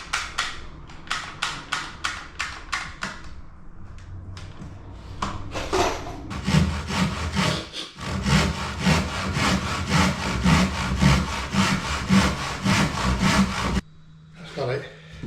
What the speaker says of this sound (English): run my handsaw down there because it's easy to do it